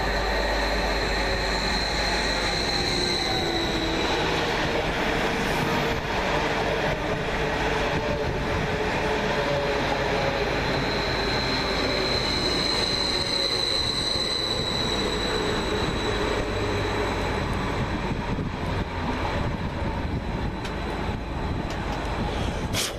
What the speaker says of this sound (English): 745107 arrives, working the 1548 Greater Anglia Stansted Express service from Stansted Airport to London Liverpool Street